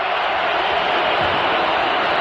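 A football stadium crowd roars during a 2004 Georgia versus LSU college game, a dense, continuous wash of cheering and noise that stays loud and steady throughout, heard from a distance as broad ambient swell.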